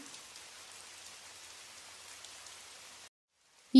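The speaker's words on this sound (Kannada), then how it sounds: "ಮಳೆ ತುಂಬ ಹೆಚ್ಚಾಗ್ತಾನೆ ಇತ್ತು" Heavy flood-season rain pours in a steady, dense hiss, then stops abruptly into silence before a sudden loud thump at the very end.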